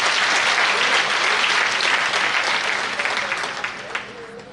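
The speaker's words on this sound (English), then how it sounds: "Can we give those comrades a round of applause?" Dense, loud applause from delegates in a hall at an ANC provincial party conference, sustained then tapering off with a few scattered claps at the end.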